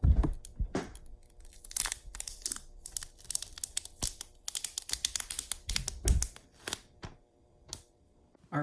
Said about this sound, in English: If you have ever opened an Apple product, this is the best part because it's very, very satisfying to open this.